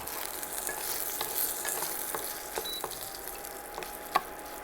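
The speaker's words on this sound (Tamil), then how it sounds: "கொஞ்சம் புளியை எடுத்து நார் ஈறு இல்லாமல் எடுத்துட்டு அதையும் போட்டு வதக்கிடணும்" Tamarind sautéing in a pan, a soft, continuous sizzle with occasional faint clicks of a utensil stirring, close but quiet, and no voices.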